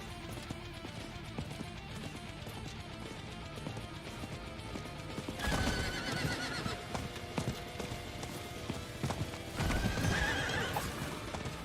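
Horse hooves clip-clop at a steady gallop with whinnies, over a busy Diablo game soundtrack with music and ambient effects; the sound swells louder in two bursts.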